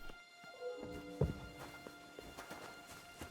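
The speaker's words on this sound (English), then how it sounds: "The horses are here." Horses in the video game Kingdom Come: Deliverance 2 give soft hoof clip-clops and shuffling steps, heard faintly against a quiet background with one sharper thud partway through.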